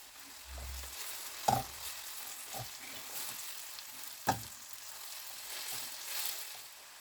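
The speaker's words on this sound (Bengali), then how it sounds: "অনিয়নটা হালকা একটু ব্রাউন হয়ে আসছে, এতে আমি এখন জিঞ্জার গার্লিক পেস্টটা দিয়ে দিব।" Ginger garlic paste goes into browning onions in a hot pan. It sizzles as a quiet continuous fry, with two sharp stirring clacks and a few softer scrapes.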